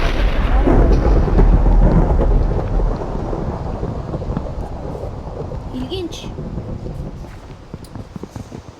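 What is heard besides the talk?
rain and thunder in a video game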